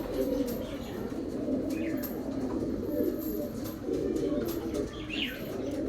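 Male pigeons coo repeatedly over a constant noisy background. The birds are fairly close, with occasional chirps and brief wing flutters.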